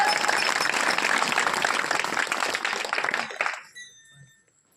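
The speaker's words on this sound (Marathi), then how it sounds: "या लेकरासाठी एकदा जोरात टाळ्या वाजवा" A kirtan audience in Khanapur claps loudly for a child, a dense burst of applause that holds for about three seconds and then quickly dies away to near silence.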